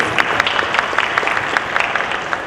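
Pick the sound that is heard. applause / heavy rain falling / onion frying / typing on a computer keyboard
applause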